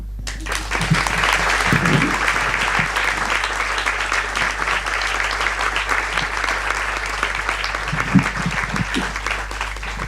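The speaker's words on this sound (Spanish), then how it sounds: "Creo que el aplauso es contundente y abrazador también." Applause from an audience at the close of a panel on mental health and gender, a dense continuous clapping that stays strong throughout, with a low steady hum underneath and faint voices in places.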